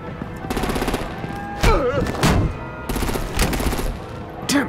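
Rapid machine-gun style artillery fire in Batman: The Telltale Series, repeated bursts of dense rattling shots with brief gaps, mixed with a voice shouting over the gunfire at close range.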